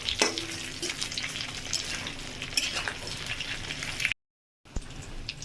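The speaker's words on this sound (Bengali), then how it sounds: "আলুগুলো দিয়ে ভালো করে একটু নাড়িয়ে টাড়িয়ে একটু ভাজবো" A steady, crackling sizzle of potatoes frying in a pan, with occasional stirring scrapes, then a brief cut before the sizzling resumes.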